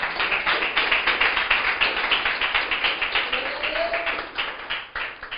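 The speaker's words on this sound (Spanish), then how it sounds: "Aplauda al Señor" A church congregation applauding during a Spanish sermon, many hands clapping in a steady rhythmic beat that carries on for several seconds before thinning out.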